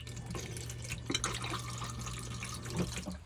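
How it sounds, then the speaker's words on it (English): A steady low pump hum drives flush fluid around a motorhome cassette toilet at the push of a button, with soft trickling and splashing water throughout, close and fairly quiet. "So the flush fluid just gets pumped around by pushing this button here."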